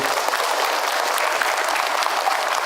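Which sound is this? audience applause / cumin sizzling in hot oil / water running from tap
audience applause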